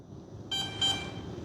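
A single short electronic beep from an FMS T-28D Trojan 1.4m RC airplane during thrust reverse setup, a high steady tone with bright harmonics, brief and moderately loud over faint background hiss.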